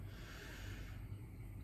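A person sniffs close up with a quiet, airy inhale that fades after about a second, alone and with no talk.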